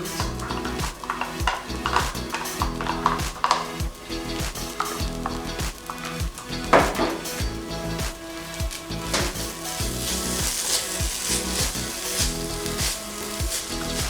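Beef samosa filling sizzles and fries in a pan with pre-fried chilies, steady crackling broken by repeated scraping and stirring knocks, close and continuous with no voices.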